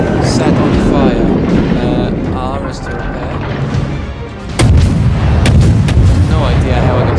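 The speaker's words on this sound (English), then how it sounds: "We're only firing single shots now" Warship guns firing in World of Warships, heavy booming artillery blasts with a sharp loud salvo midway, over rumbling battle ambience while someone talks.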